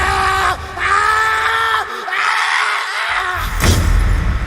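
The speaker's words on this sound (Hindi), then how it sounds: "कुछ देर बाद लेखक की एक जोर से चीख सुनाई देती है।" A loud, sustained scream that wavers and breaks, followed by a sharp crash-like burst near the end, in a Hindi horror audio drama.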